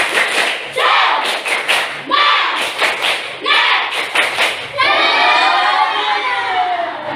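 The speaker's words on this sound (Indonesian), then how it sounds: "Sekali lagi, tepuk semangat." A class performs a rhythmic spirit clap, tepuk semangat, in patterned bursts of loud group clapping and thumps, then a longer sustained flurry, with voices chanting along.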